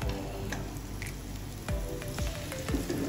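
Beaten eggs seasoned with salt and pepper hit a hot pan beside fried rice, producing a soft sizzle with light ticking spatters, quiet and close.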